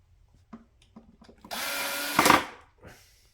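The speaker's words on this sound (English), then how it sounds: "this is a Black & Decker 20-volt drill." A Black & Decker 20-volt cordless drill whirs in one loud burst of about a second, surging near its end, between scattered light clicks and handling knocks during assembly of a play kitchen.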